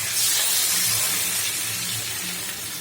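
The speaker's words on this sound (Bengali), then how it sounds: "কষানো হয়ে গেছে, আমি জল দিয়ে দিব।" Water poured into hot, fried masala for a broiler chicken and potato curry: a loud, steady steaming hiss and sizzle that slowly eases off, heard alone.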